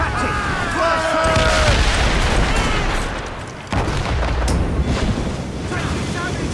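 Ship cannons firing during a naval battle in Assassin's Creed Rogue: heavy booming blasts and rumbling fusillades with crackling debris, loud and sustained, under shouting voices.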